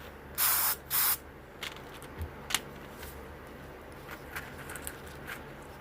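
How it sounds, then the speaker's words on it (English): Two short bursts of an aerosol spray of mold release hissing up close into a resin mold, followed by quiet handling clicks and taps. "See how I'm spraying the mold release down in there?"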